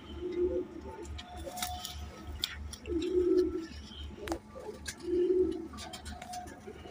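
A female pigeon coos in three soft, rolling phrases spaced a couple of seconds apart, close by, with faint chirps and light background noise between them.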